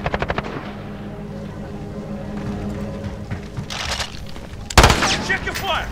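Bursts of machine gun fire in Call of Duty Modern Warfare from the FiNN light machine gun, a rapid rattling volley at the start, then a heavy loud blast near the end, with no talk.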